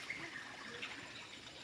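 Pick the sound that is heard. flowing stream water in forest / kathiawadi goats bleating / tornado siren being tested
flowing stream water in forest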